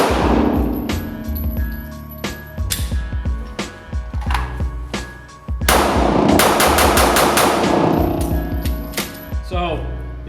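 A Roland Special Glock 19 pistol fired in rapid strings, with sharp, loud, close shots in quick bursts separated by short pauses, echoing slightly after each volley.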